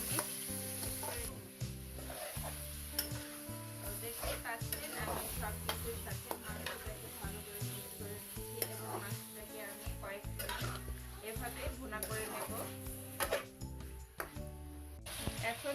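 Broiler chicken fries in a pan with onion, sizzling steadily while a utensil scrapes and clatters against the pan in repeated stirring strokes.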